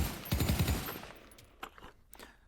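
A short full-auto burst from a gun in the VR shooter Pavlov VR, rapid evenly spaced shots close and loud, then a few separate clicks and knocks of weapon handling afterward.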